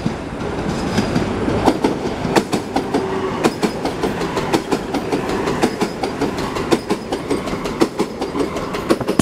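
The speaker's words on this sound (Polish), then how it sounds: "do przejazdu zbliża się pociąg spółki PKP Intercity" PKP Intercity passenger train, the Karkonosze service, rolling through a level crossing in Jelenia Góra, loud and close, with steady rumble and rhythmic clickety-clack of wheels over rail joints throughout.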